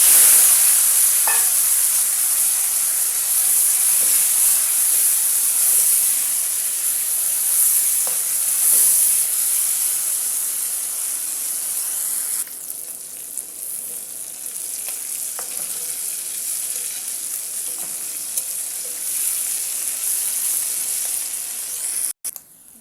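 Fish fries in hot oil in a kadai, a loud, hissing sizzle right up close that slowly eases, with a few faint clinks and stirs as the frying goes on.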